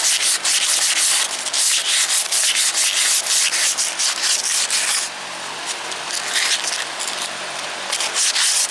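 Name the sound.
polishing with 400-grit sandpaper to smooth scratches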